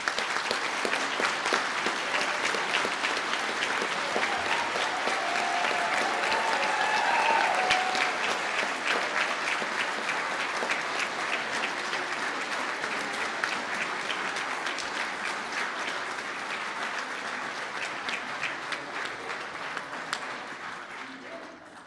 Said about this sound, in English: That big round of applause, which is great.